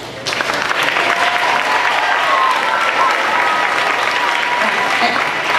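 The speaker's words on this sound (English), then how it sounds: "let's give her a round of applause as well." A school audience at an elementary production of Peter Pan Jr. bursts into loud, dense applause that holds steady for several seconds, with cheers and voices mixed through the clapping.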